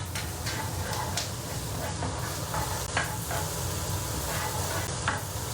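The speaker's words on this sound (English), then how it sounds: "So cooking the onions and garlic quite slowly on a reasonably low heat." Onions and garlic frying slowly over low heat in a pan, a steady dense sizzle with occasional scraping stirs, close and continuous.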